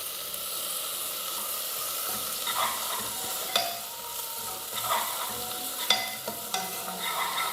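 Chopped onions fry in hot oil in a pan with freshly ground ginger garlic paste for rasam, giving a steady close sizzle and hiss broken by occasional scraping stirs of a spoon.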